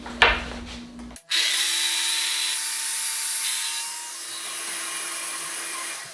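Power saw making a cross cut through wood on an MFT table, a brief click and start-up followed by a loud, steady whining cut lasting several seconds close by, tapering slightly near the end.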